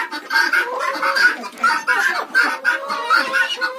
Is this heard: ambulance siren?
no